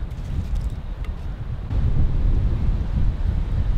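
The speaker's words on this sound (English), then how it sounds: "those winds are really picking up. Some of those wind gusts are hitting 40, 45 miles an hour already" Strong wind gusts of 40 to 45 miles per hour buffet and roar across the microphone outdoors, growing louder partway through into a heavy, continuous gust.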